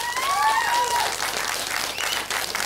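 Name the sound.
studio audience applause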